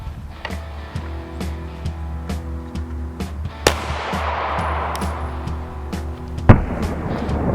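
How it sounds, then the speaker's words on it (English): .380 RIP pistol rounds fired one after another into a ballistic gelatin block, a series of sharp reports at irregular intervals with a louder crack near the middle and another near the end, heard outdoors. "We're shooting them all one after the other into the same gel block so that you've got the same conditions."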